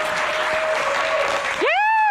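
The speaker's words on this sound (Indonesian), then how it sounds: "Tepuk tangan dong teman-teman." Audience applause greets a rock band's members arriving at a Q&A event, a dense, steady wash of clapping filling the clip before a rising voice or tone cuts in near the end.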